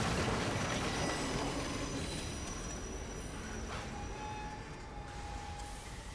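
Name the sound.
train passing in Assassin's Creed Unity video game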